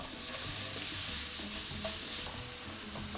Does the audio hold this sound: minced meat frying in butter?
yes